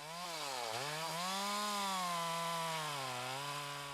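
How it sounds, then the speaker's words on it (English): A chainsaw makes the top felling cut into a tree trunk at a sharp angle, its engine droning loud and steady with a brief dip in pitch as the chain bites, then a sustained strained whine with no talk. "There are three main cuts to make when felling a tree. The top cut is made with the pulling part of the chain"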